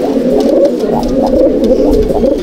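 Continuous overlapping coos from Malbai/Panjabi pigeons fill a loft, deep rolling pulses from several nearby birds, loud and uninterrupted.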